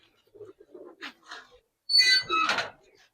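Giribaz silver pigeons in a loft give soft, low coos in short separate bursts, then a louder, fuller rush of calls near the end, heard close by.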